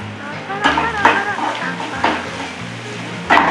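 Onions sautéing in a pan for a Tirunelveli-style coconut idly dish, a steady sizzle with a few louder stirring scrapes, close and moderately loud with no speech over it.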